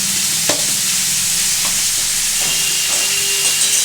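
Soybean, potato and pointed gourd curry fries in a pan with sugar added, a loud steady sizzle broken by several scraping clacks of a spatula stirring, close and without talk.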